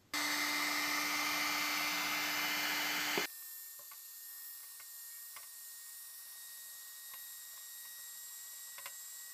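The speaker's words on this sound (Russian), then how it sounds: "при помощи фена, так как бутылка имеет свойство термоусадки, я его сейчас обтяну" Hair dryer blowing hot air to heat-shrink a plastic bottle over a homemade filter dryer part, loud steady roaring hiss for about three seconds, then cutting off abruptly to a quiet room with faint clicks and handling noises.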